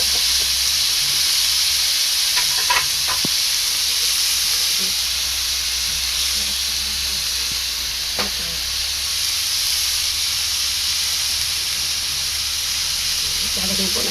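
Patani lima bean seeds sautéing in a pan give a steady, even hiss and sizzle throughout, with a few faint stirring clicks and scrapes, and soft voices in the background.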